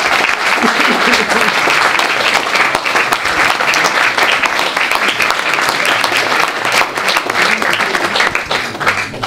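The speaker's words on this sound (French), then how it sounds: "On applaudit, enfin vous applaudissez." A lecture audience bursts into sustained, dense applause, loud and close, with steady clapping filling the whole stretch and no letup.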